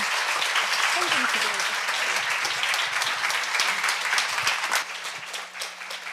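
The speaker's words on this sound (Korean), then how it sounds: "우리 여러분들이 힘찬 박수로 이렇게 환영해 주시면 환영합니다" A church congregation gives a strong round of applause to welcome a visiting missionary, dense and steady for several seconds before tapering slightly, with a brief voice underneath early on.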